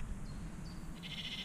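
A grey sheep bleats once on open moorland at Culloden, a short nasal call rising over steady low wind rumble, fairly close.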